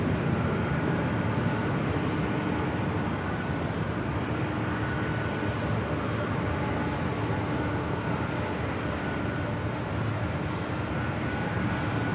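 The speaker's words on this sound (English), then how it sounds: "The 747-8 Intercontinental will head up here for a north side departure." A Lufthansa Boeing 747-8 Intercontinental departing from LAX on the north side, heard as a loud, steady roar of jet engines that holds unbroken for the whole stretch, with no voices.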